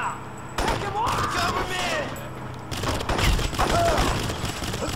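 Bursts of silenced gunfire from the video game Crysis come as rapid muffled shots over game ambience, and voices can be heard in between.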